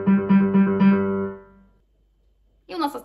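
Piano playing a fast passage from Vivaldi's Summer (Storm), a quick run of repeated notes ringing for over a second and decaying to silence, followed by a short spoken voice.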